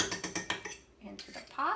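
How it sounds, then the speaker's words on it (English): A utensil scraping cooked elderberries into a pot while making elderberry syrup, a series of quick clinking scrapes against metal with a voice heard near the end. "So we're gonna scrape all of that"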